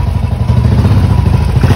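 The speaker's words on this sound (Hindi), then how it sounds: "बुलेट चला रहे हैं पहली बार" Royal Enfield Bullet motorcycle ridden close by, a loud steady low thumping engine beat with some clatter throughout, no talk.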